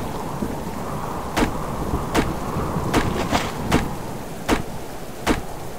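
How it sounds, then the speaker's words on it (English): Thunderstorm in the survival game Subsistence: steady rain hiss with a series of sharp, close thunder cracks arriving every second or so, about eight distinct strikes over the stretch. "Hope the storm sounds not too loud."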